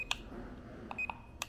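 The remote controller of a FLYHAL F111 mini drone gives short, sharp electronic beeps: one at the start, a quick pair near the middle and one more at the end, all close and clear over faint background hiss.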